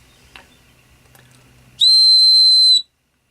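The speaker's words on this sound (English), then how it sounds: "Not a bad whistle." A single shrill, piercing whistle blown from a soda can, lasting about a second after a few quiet handling noises.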